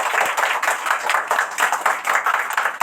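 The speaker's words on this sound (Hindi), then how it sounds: "ताली बजाओ।" Children in a classroom clap together, a close, brisk run of rhythmic hand claps repeating steadily throughout with no talking over it.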